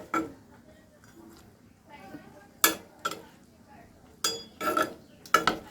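A spatula scrapes and clinks against a pan of snakehead fish curry as greens are pushed aside, with several sharp metallic knocks spaced unevenly while someone speaks between them.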